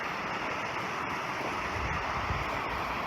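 A modest waterfall at an East Kent nature preserve, a steady broadband rush of falling water that fills the clip evenly and continuously, with no voices over it.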